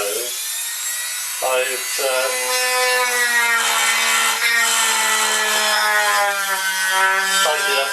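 A Dremel rotary tool mounted on a homemade Arduino CNC machine whines at a high pitch, spinning up and then holding a loud, steady buzz, with a voice briefly speaking.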